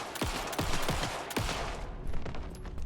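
Rapid gunshots ring out in Alan Wake 2, several sharp loud cracks in quick succession over the first second and a half, followed by a denser rumbling layer of game sound and faint high tones.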